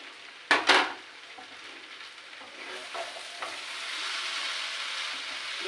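Potatoes for chow mein hit a hot pan with a couple of sharp clatters, then fry with a rising steady sizzle while being stirred, close and clear.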